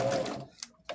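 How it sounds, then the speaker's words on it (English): A sewing machine stitches quilt rows together in short, close mechanical bursts, a quick whirring run followed by a couple of brief clicks. "I'm sewing my rows together"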